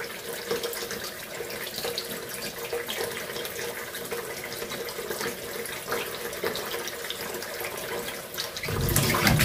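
A kitchen tap runs continuously as water splashes over tomatoes being washed, a steady close hiss of flowing water that swells louder near the end.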